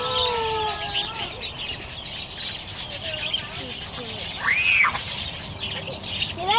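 Budgies at a Gulf Breeze zoo chirp and whistle in short, bright calls, close by, with scratchy rubbing noises and people talking throughout.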